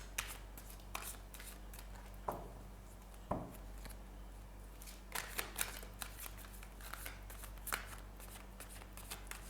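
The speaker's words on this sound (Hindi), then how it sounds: "कार्ड्स को मैं दोबारा से शफल कर लूँगी।" Tarot cards being shuffled by hand: soft, close riffling and sliding bursts recur every second or so against a quiet, low hum, with no talking.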